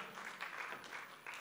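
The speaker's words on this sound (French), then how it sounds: "On va les applaudir pour les accueillir." Audience applause welcoming guests onto a stage at a French-language entrepreneurship event, a steady, dense wash of clapping with small swells, moderately loud and with no talk over it.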